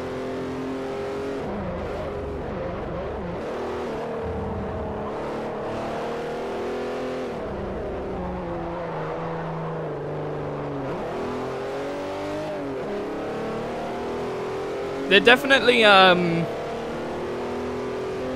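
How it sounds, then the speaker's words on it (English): Race car engines and exhausts in Forza Motorsport 4 drone and rev continuously, pitch rising and falling through gear changes, with a brief harsh tire or exhaust burst near the end, while a person talks over it. "cranking up the gain a little bit high on the exhaust to some of these cars"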